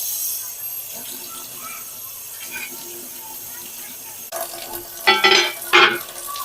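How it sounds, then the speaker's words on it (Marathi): Running water splashes as a griddle pan is rinsed under a tap, growing louder with sharper splashing bursts toward the end. "हा तवा आपण आता स्वच्छ पाण्याने धुवून घ्यायचा आहे"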